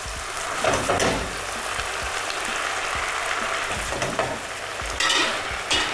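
Steady loud sizzling from a frying pan, with intermittent scraping and stirring sounds throughout, no voices.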